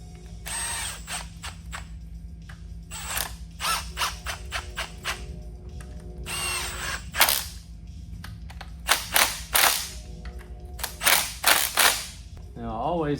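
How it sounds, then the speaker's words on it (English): A timing sprocket slides onto an engine camshaft during an engine build, giving close, repeated metallic clicks, rattles and clanks in short irregular bursts with brief pauses between them. "I want to slide the sprocket onto the cam here"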